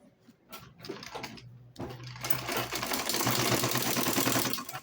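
A sewing machine top stitches a folded fabric shopping bag, starting with a few hesitant bursts, then running up to a steady, fast mechanical whir close by.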